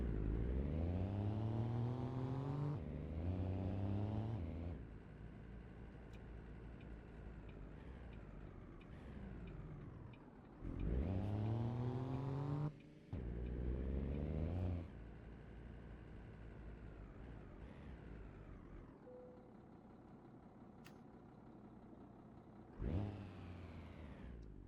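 A truck engine in a driving video game revs up and settles repeatedly, loud, steady engine drone rising in pitch during accelerations, with no talking over it.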